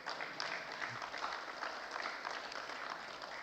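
Sustained applause from an audience at an association's annual general meeting in an auditorium, steady and moderately loud across the whole stretch with no talking over it.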